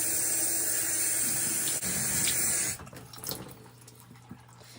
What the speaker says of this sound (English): Give it a really good rinse.